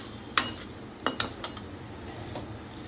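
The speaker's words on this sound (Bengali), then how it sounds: "ওই তেলেই আমি দিয়ে দিচ্ছি কিছুটা পরিমাণে গোটা জিরা, দারচিনি, এলাচ আর কয়েকটা লবঙ্গ ফোড়ন দিয়ে ভালোভাবে নাড়িয়ে নিচ্ছি।" Whole cumin, cinnamon, cardamom and cloves tempering in hot oil for jackfruit kofta curry, stirred with a utensil: a few sharp scrapes and clinks against the pan over a faint low sizzle, no talking.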